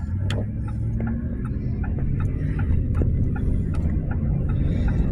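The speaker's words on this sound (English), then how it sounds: "Oh, a car coming." A single car passes on a residential street, a steady low rumble of tyres and engine that swells gently and holds across the stretch, with faint ticking and clicks above it.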